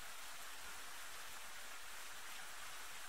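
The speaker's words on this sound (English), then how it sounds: "And then it started to rain." Rain falling in the medieval survival game Medieval Dynasty, a steady, soft, even hiss of rainfall with no breaks, faint and unbroken throughout.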